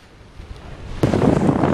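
Ocean surf and wind by the sea: a low, muffled rush that swells suddenly into a loud, broad crash of wave and gusting wind buffeting the microphone, close and continuous.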